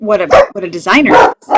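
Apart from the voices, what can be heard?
dog barking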